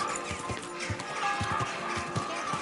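A horse clip-clopping nearby, hooves striking in an irregular steady rhythm over a busy background.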